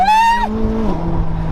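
McLaren 600LT sports car accelerating hard down a city street, a loud high-pitched engine note climbing then dropping sharply at a gear change before settling into a lower rising drone.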